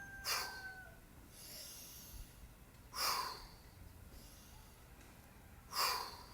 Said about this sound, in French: J'inspire et on force l'expiration, ça c'est une respiration dynamisante